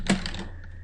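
A short burst of typing on a computer keyboard, a few quick close key clicks in under a second, crisp and alone.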